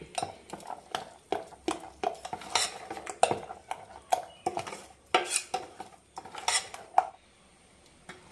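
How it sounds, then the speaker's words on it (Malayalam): A spoon clinks and scrapes against a bowl while salted appam batter is stirred, a steady run of near, rhythmic knocks and scrapes with short pauses and no voices. "മാവിലേക്ക് ആവശ്യമുള്ള ഉപ്പ് കൂടി ഇട്ട് കൊടുക്കാം നന്നായി മിക്സ് ചെയ്യാം"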